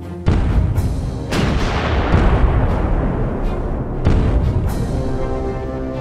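Heavy warship guns boom in a naval combat game as HMS Jamaica engages an armed junk, with several loud broadband blasts at irregular intervals over a constant rumbling battle bed.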